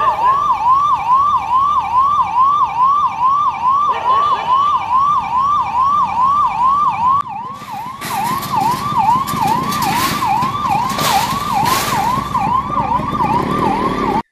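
Ambulance siren wailing steadily on a night street in Hanumanthapura, Tumakuru, as citizens cleared barricades to let the vehicle through; a loud, close, continuous up-down wail with rising traffic and broadband street noise joining in the second half.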